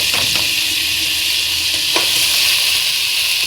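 Barley-shaped orzo toasts in a pan for a rice pilaf, hissing with a steady, bright sizzle while a spoon gives a couple of scraping stirs, close and loud with no speech.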